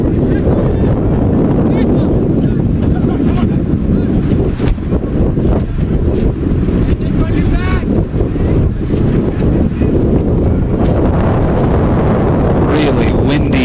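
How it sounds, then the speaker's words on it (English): Heavy evening wind in Newman buffets the microphone at a soccer match in loud, continuous rumbling gusts, with faint voices underneath. "Really windy evening here in Newman. You can hear it."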